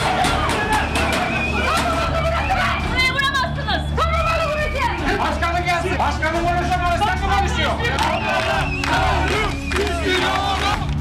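Protesting crowd of island residents outside the Adalar municipality building, a dense, continuous roar of shouting and chanting voices close by, with overlapping calls rising and falling throughout.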